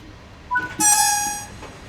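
A freight train hauled by a class 185 locomotive passes in Train Sim World 6, on the Salzburg–Rosenheim line. A horn-like tonal blast swells up and holds for about a second before fading, loud and close, with no talk.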